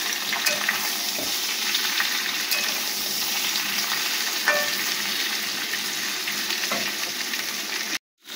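Fish curry with slit green chillies is stirred in a pan, a steady close sizzle with light scraping and bubbling that runs without pause until a sudden cut near the end.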